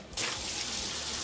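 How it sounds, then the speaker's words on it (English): Water pours in a steady, continuous stream from an upturned portable camping shower bag, starting abruptly with a loud, close gush that holds at an even level throughout. "So you see the constant stream of water, and then the water is quickly going down like that"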